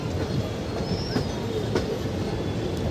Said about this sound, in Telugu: ఇప్పుడు సంపర్క్ క్రాంతి ట్రైన్ వచ్చేసి పాత ట్రాక్లో వచ్చి